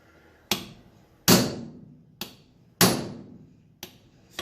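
Five sharp metallic hammer strikes from a 3-pound hammer while taking apart a National Detroit DA sander, at uneven intervals, each ringing briefly before fading, close and loud with quiet gaps between.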